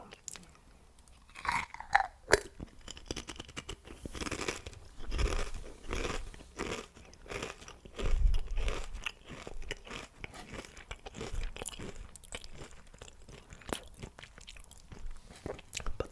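Sour cream and chive Pringles crisps crunched and chewed close to the mic, with irregular crisp bites and quieter chewing between them, no talk.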